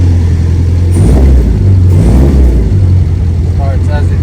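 A 1957 Morgan Plus Four Drophead engine on a cold morning, a loud, close, low rumble that rises and falls in revs while the choke is pulled, with someone speaking over it.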